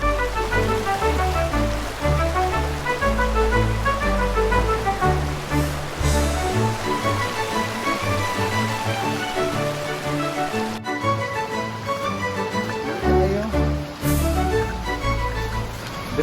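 A small river rushes steadily over rocks near the Kulaman rock formation, a continuous close, full-bodied flow of water with no voices.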